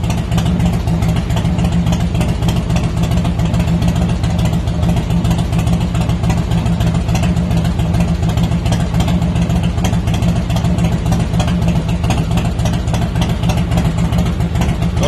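Harley-Davidson Heritage Softail motorcycle engine idling steadily after a cold start-up, a loud, continuous low rumble with a fast even pulse that holds unchanged throughout, with no talking over it.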